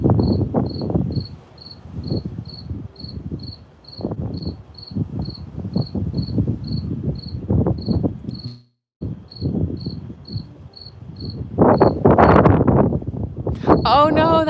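A cricket on a summer night, chirping in steady regular pulses throughout under wind buffeting and low rumble, with a brief dropout partway and a burst of louder noise near the end.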